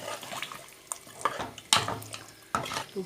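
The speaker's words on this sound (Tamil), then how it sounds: "நல்லா கலரி விட்டுக்கலாம்" Chickpea and potato curry being stirred in a pot with the chickpea cooking water, giving soft irregular liquid sloshes and scraping knocks, several sharper clinks near the middle and end, with no talk.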